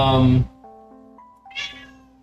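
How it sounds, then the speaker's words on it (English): A pet cat meows loudly and close in a kitchen, one drawn-out cry followed by a second shorter meow after a pause, with a soft hum in between. "You guys hear him meow?"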